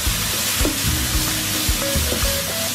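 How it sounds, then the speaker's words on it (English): Capers and Kalamata olives being stirred into a sizzling pan of puttanesca sauce base with dissolved anchovies and chili flakes: close, loud continuous hiss with repeated scraping stir strokes, no voices. "Add the capers and Kalamata olives,"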